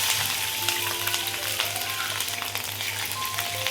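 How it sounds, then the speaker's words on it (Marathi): Cumin seeds and green chilies sizzle in hot oil for paneer pulao, a dense, steady crackling fry close up and loud throughout, with light stirring scrapes and no voice. "तर मी इथे जिरे टाकून घेत आहे। त्यानंतर मी इथे हिरवी मिरची,"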